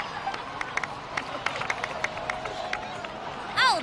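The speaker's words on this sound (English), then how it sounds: "So, please give another round of applause for them." Scattered crowd clapping and light cheering from a game scene in Genshin, soft and fairly distant over a low ambient murmur, ending with a brief bright chime.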